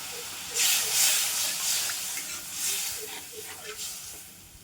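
Water poured into a pan of hot, fried spice paste with chilli powder for a pomfret curry bursts into loud hissing sizzles that surge and fade in waves.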